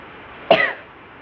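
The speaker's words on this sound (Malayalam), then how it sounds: "അങ്ങനെ നമുക്ക് ചെറിയ ചുമക്കുണ്ട്." One short, sharp cough bursts out alone, nearby and fairly loud, then fades quickly into quiet.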